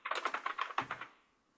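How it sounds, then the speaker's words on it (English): Keys on a computer keyboard clack in a quick, close run of about a dozen taps, then stop and fade into quiet. "I'm typing it."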